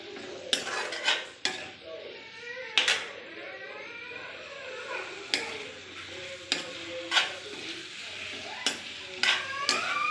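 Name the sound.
stirring kohlrabi and potatoes in a cooking pan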